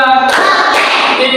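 A classroom of students clapping together in a counting rhythm, a dense burst of many hands close by with a voice over the top.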